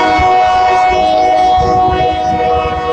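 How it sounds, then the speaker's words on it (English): Loud passing train with sustained horn-like tonal drone and rumbling rail noise, steady and close throughout, with no talk. "Damn train, man."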